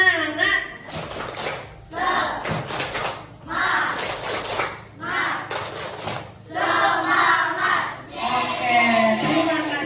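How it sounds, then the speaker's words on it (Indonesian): A class of students performs the tepuk semangat spirit clap in a classroom, with loud rhythmic bursts of group clapping and shouted chant-like voices in repeated phrases and short pauses between them. "tepuk semangat dulu"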